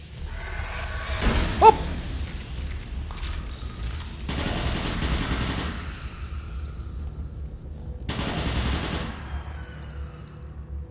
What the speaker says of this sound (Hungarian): Ez a kék fej elég nagyot robban.